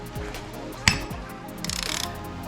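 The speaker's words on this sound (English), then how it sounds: "Now I'll be taking my 8 millimeter Allen and" An 8 mm Allen key breaks loose a handlebar bolt on a 2016 Yamaha XSR900, giving one sharp metallic crack followed by soft ratcheting clicks, close and fairly quiet.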